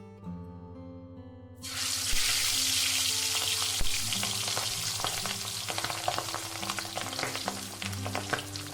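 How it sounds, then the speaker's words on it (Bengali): Pabda fish rubbed with salt and turmeric bursts into loud sizzling as it drops into hot oil, then keeps frying with crackling spatters and occasional stirring clinks. "ভালো করে নুন হলুদ মাখিয়ে পাবদা মাছগুলো তেলের মধ্যে ভাজতে দিয়ে দিয়েছি"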